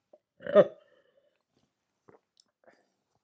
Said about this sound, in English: Always got the hiccups when I'm live.